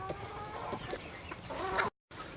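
Pet backyard chickens cluck and murmur close by, a busy run of short clucks and calls at moderate volume, broken by a brief moment of silence near the end.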